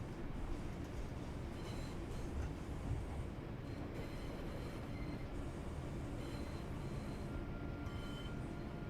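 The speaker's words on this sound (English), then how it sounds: "We are driving a buzz train." An electric Class 323 train runs on the Birmingham Cross City line in the Train Sim World 4 game, giving a steady, continuous rolling rumble throughout with no talking.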